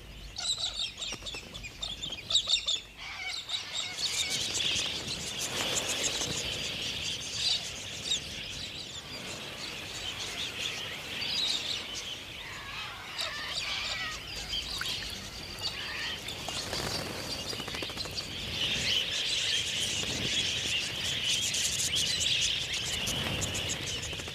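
A flock of galah parrots calls in the Australian outdoors, with busy overlapping screeches and chatter running continuously at moderate distance.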